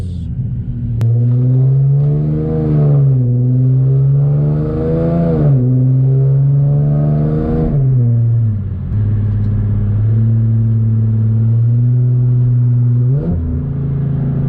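Infiniti G37x engine revving and downshifting on the road, a loud steady drone rising and falling through several rev swells, with crisp blips at each downshift and no talking.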